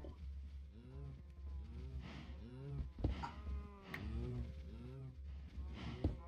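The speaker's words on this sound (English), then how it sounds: "Cows are so noisy." Repeated low moos from several Minecraft cows overlap one another, fairly close and steady, with a couple of sharp clicks in between.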